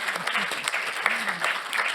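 Audience at a general assembly applauds steadily throughout, a dense wash of clapping with a few voices murmuring underneath.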